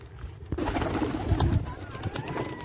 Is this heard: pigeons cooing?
yes